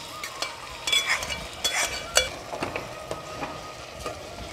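Mashed elephant yam stirred into a pan of sautéing ginger and green chili, with soft scraping and stirring strokes and light clinks over a faint sizzle, close and fairly quiet.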